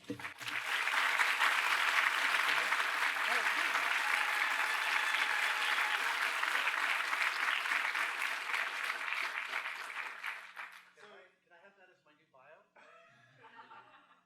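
An audience at a Berkeley lecture applauds as Adam Savage is welcomed to the stage. The clapping is full and sustained for about ten seconds, then dies away as voices and light laughter come in near the end.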